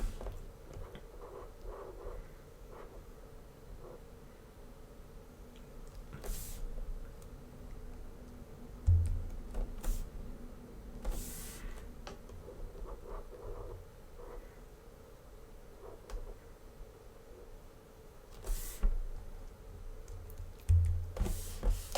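Keyboard shortcuts tapped on a computer keyboard while working in animation software, a few soft scattered key clicks in a quiet room with faint background noise and no talk.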